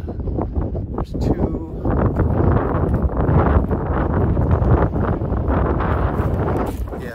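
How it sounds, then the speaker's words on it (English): Strong desert wind buffets the microphone with a loud, continuous low roar and rushing gusts throughout, with no clear speech. "The wind's a pain in the ass, though."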